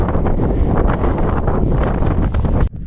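Strong mountain wind on Śnieżka's summit roars and buffets the microphone in a steady, loud rush, cutting off abruptly near the end.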